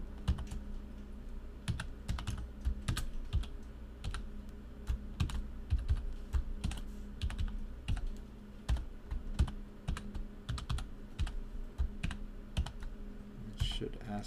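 Passphrase being typed on a computer keyboard during Debian 9 encrypted-drive key-file setup: steady, close clicking keystrokes in irregular bursts throughout, over a low background hum.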